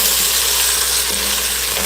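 Potatoes fry in a pan at breakfast with a constant loud hiss and crackle, while a utensil stirs them with a faint scrape partway through. No one speaks.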